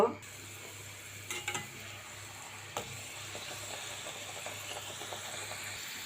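Luchi frying in hot oil give a steady sizzling hiss with a few soft clatters, heard close and continuous.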